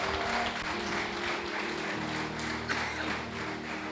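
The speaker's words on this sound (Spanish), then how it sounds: "Dale un aplauso a Jesús y le va a dar." Church congregation applauding during a Sunday sermon, a steady dense wash of clapping filling the room at moderate level, with a low hum underneath.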